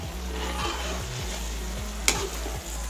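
Finely chopped tomatoes and yogurt frying in a pot for Bannu pulao, giving a continuous close sizzle over a low steady hum, with one sharp click partway through.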